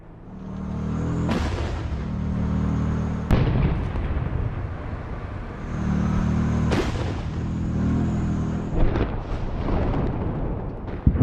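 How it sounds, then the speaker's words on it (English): A Ukrainian tank firing successive shots at a Russian convoy, several sharp booms spaced a few seconds apart, each followed by a rolling rumble, with engine drone between blasts. "Successive shots block the convoy's assault"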